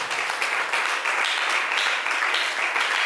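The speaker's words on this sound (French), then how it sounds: "Est-ce que tu peux acclamer fort pour lui?" A church congregation claps and cheers in steady, dense applause that fills the room, loud and sustained without a break.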